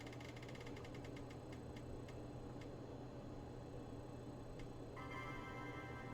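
A Spin the Wheel app wheel ticks rapidly, then slows to sparse clicks before a short chime-like tone, all quiet over a steady low hum.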